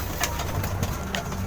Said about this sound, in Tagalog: Kaya pumasok to yung kalabating to.